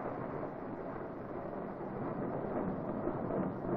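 Thunder from a summer storm rolls as a steady, broad low rumble that holds at a fairly even level throughout, with no voices.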